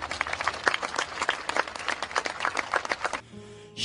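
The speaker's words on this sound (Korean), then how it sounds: "박수를 부탁드립니다" Applause at a memorial gathering for bereaved families, steady overlapping claps from a crowd close by that cut off abruptly near the end.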